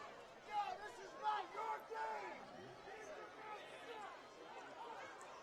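Football crowd at a high school playoff game at Wayne Valley reacts to a penalty flag with a mixed, moderately loud murmur of chatter and scattered shouts, swelling in brief bursts before settling into a steady crowd hum.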